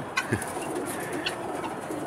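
Racing pigeons back at their home loft give a few soft, close coos over a low background hiss, with faint chirps mixed in.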